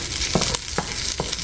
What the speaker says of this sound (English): we have already got our corn kind of charred and seared a little bit, roasted